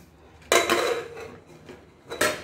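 A spoon scrapes and clinks against a pressure cooker and serving bowl as peas pulao is dished out, giving a few sharp metallic clatters separated by quieter pauses.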